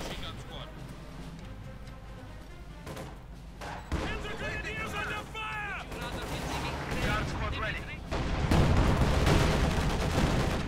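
Bursts of MG42 machine gun and other gunfire crackle through a Company of Heroes 2 battle, with explosions and tank combat building in intensity beneath continuous commentary.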